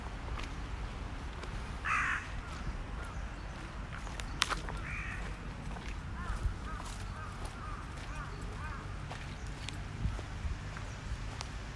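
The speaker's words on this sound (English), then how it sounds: "Crow." Outdoors in Tokyo, Japan, a crow caws a few times at moderate distance over steady street and ambient background noise.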